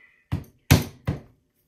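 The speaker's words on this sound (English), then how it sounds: "I just simply turn on the drill press, it spins, and just punch the holes using it that way" A drill press punches holes in leather for mitten gauntlets, giving three sharp separate thunks spaced a fraction of a second apart, close and fairly loud against silence.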